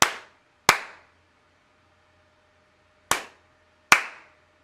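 Two pairs of sharp, close hand claps trigger an Arduino microphone clap switch, each pair a fraction of a second apart with a pause of a few seconds between pairs, over a faint steady electronic hum.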